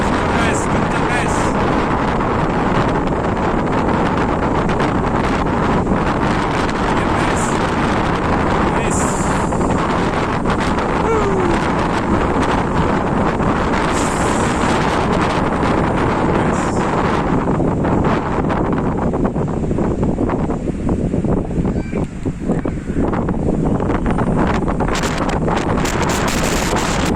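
Strong wind roars steadily at Sipiso-piso waterfall near Lake Toba, a loud continuous gusting rush buffeting the microphone throughout, easing slightly near the end.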